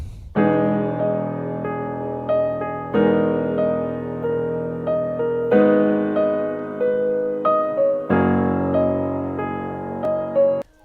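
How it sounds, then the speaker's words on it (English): A MIDI piano plays a slow chordal melody, notes struck in clusters with sustained decays, alone and clear with no voices. "So first I started with a piano using MIDI from my boy Miku"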